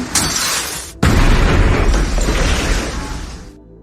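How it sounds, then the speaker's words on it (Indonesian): A loud explosion in a film booms suddenly, a sharp blast followed by a long roaring rumble that slowly fades out. "akibat ledakan itu Nick dan istrinya terluka parah"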